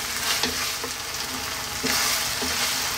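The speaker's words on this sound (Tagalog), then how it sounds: "lulutuin ko lang yung ating tomato paste ng mga 2 minutes" Tomato paste frying in a pan for pasta, a loud, close, continuous sizzle with occasional stirring scrapes and no voices.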